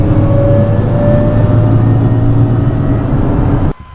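A Nissan 350Z with a welded differential under throttle, giving a loud, steady engine drone with a faint whine over it until the sound cuts off abruptly near the end.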